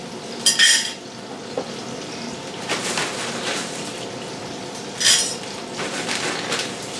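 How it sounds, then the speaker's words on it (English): Handfuls of dry fusilli pasta dropped into a pot, giving two short bright rattling bursts several seconds apart over a quiet kitchen background with a few soft knocks in between. "today I'm going to use fusilli pasta. So, I'm going to put a couple of handfuls in."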